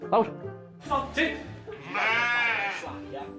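Spooked sheep bleat loudly several times in wavering, drawn-out calls, the last one long and quavering, close by.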